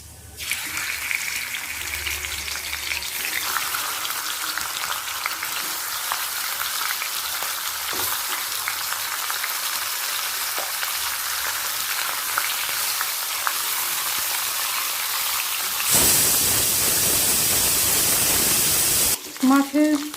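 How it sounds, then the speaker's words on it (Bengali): Fish heads frying in oil in a wok for a Bengali pui shak chorchori, giving a steady loud sizzle throughout that surges brighter and harsher near the end, with someone talking over it. "অপর দিকে কড়াতে আমি তেল দিয়ে দিলাম এরপর মাছগুলোকে ভেজে নেব"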